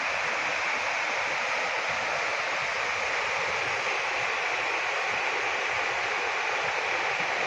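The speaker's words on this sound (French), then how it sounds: "apparemment c'est le haut de la cascade et il y a un pont au-dessus" A waterfall in autumn in the Ain region of France, heard from its top near a bridge, gives a constant, dense rushing roar of falling water, steady and loud with no other sounds.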